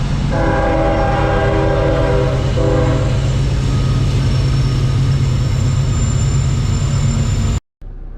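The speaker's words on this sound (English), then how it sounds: "And we got a train coming. Thank God for the whistle" A loud train horn blares in sustained blasts over the heavy rumble of a passing train at a forest road crossing, fading into steady rolling noise before cutting off.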